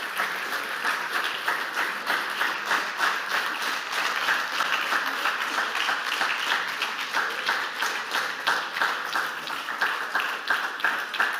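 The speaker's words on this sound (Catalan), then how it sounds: "moltes gràcies per fer un aplaudiment per membres del jurat." An audience at a school anniversary event applauds the jury members, many hands clapping in a sustained, slightly rhythmic burst that stays even and fairly close for several seconds.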